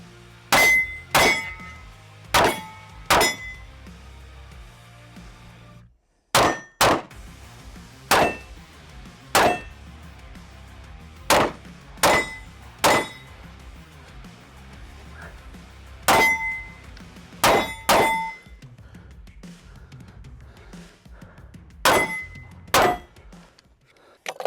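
Gunshots ringing off steel targets at a shooting range, fired around a bench used as cover, sharp metallic clangs in quick pairs and short strings with pauses between, loud and close with brief ringing decay.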